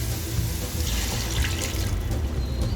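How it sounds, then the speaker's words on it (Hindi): Water poured from a vessel into a pan of fish curry masala, a steady close splashing and gurgling pour lasting a few seconds, no speech. "इसमें थोड़ा सा पानी डालेंगे"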